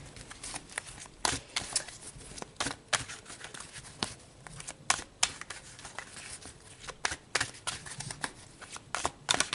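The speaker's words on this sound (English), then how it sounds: "So let's pull you some advice cards." Tarot advice cards are shuffled by hand, giving a steady flurry of soft papery riffles and slaps with quick irregular rhythm, close and fairly quiet, with no talking.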